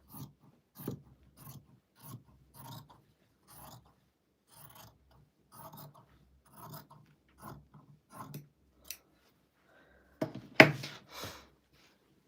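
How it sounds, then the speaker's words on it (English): Scissors cut through quilt fabric for binding, giving a series of quiet, crisp snips and rasps in short bursts across a near-silent room, with one louder clatter toward the end. "I'm going to flip this around, use my scissors, whoops, and cut."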